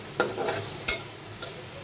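Onion and chili frying for a stalk and shrimp curry, with a soft sizzle under several sharp scrapes of a spoon against the pan.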